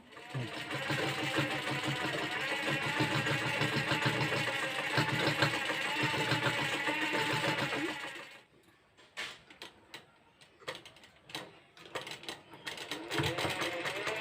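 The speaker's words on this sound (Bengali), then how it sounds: "এই যে মেশিন মশাই এখানে আছে তো এখন এটাকে সেলাই করব" A sewing machine stitches fabric in a steady, continuous whirring run for about eight seconds, then falls quiet apart from scattered handling clicks and faint noises.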